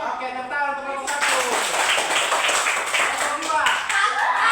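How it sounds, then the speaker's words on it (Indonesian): Children clap together for a group during a classroom movement activity, a dense burst of applause starting after a second and continuing steadily, close and loud, with voices mixed in. "tepuk tangan untuk kelompok 1"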